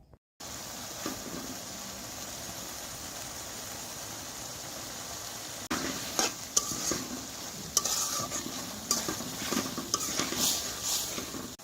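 Tomato chunks stirred in a cooking pan for tomato rice, a spoon scraping and pushing through soft, sizzling food, quiet at first and then louder with repeated clinks and scrapes.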